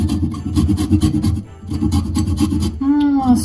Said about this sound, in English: I also have to zest the lemon